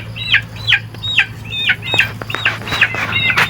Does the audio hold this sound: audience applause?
no